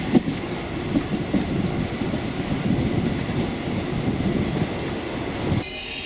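A Rovos Rail train rolls along the rails with a steady rumbling clatter, close and continuous, before cutting off abruptly near the end.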